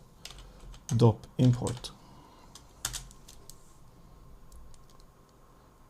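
Computer keyboard typing while working in Houdini software: two brief bursts of close, crisp key clatter, mixed with a man's speech, then quieter room tone.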